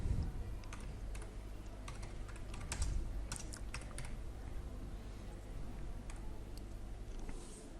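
Steady typing on a computer keyboard while patient data is entered into an online authorization form, with quick irregular key clicks running throughout at close range and no speech.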